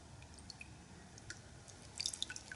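Water sloshing black sand out of a gold pan, heard as faint, sparse drips and small splashes with quiet trickling between them, growing a little busier near the end.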